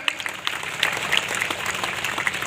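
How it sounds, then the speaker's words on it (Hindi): An audience at a village ground-breaking ceremony claps steadily, a brief burst of scattered hand claps from a nearby crowd. "ताली आप लोग बजाते रहें।"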